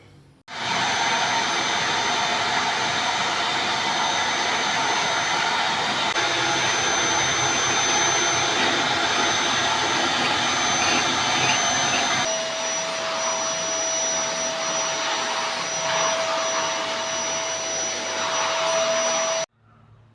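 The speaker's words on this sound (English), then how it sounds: "Now I'm just gonna sweep up these piles and then I'm going to vacuum." A vacuum cleaner roars steadily and loudly for most of the clip during home renovation floor cleanup, its pitch shifting partway through, then shuts off abruptly.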